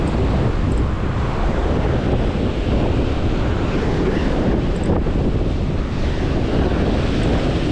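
Big ocean waves slap and surge around a small fishing boat at sea, a loud, constant roar of surf mixed with heavy wind buffeting the microphone throughout, with no clear voices.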